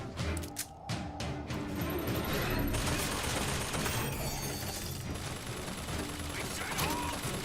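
Turret in BioShock Infinite firing a sustained burst of rapid gunfire, loud and dense throughout with crashing impacts, while a voice talks over it.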